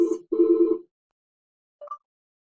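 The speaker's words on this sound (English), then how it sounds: "I got a phone call." A single telephone ring burst sounds twice in close succession, loud and harmonic, then a short faint chirp follows after a pause, with no talking over it.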